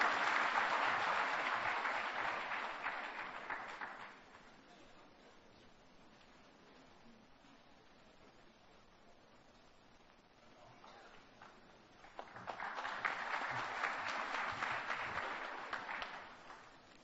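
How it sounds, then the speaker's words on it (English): An audience at a chartered accountants' event applauds a speaker being welcomed. Two bursts of sustained clapping come from a large room, separated by a quieter stretch of scattered claps. "Please give with big round of applause."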